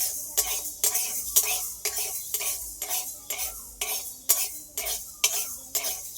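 Masoor lentils are lightly fried and stirred in a kadai, a steady rhythm of about a dozen scraping spatula strokes with a faint sizzle underneath, close and alone.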